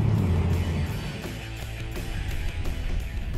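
A 2015 BMW M235i Convertible with rear-wheel drive is being driven, and its engine gives a steady, deep drone heard close and fairly loud, with no voices.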